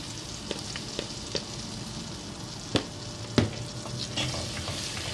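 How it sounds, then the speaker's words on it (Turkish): Flour roasting in melted oil in a pot for a roasted tomato soup, with a soft continuous sizzle and occasional spoon taps and scrapes against the pot, close and moderately quiet, no talk. "Birkaç dakika kavuralım unumuzu."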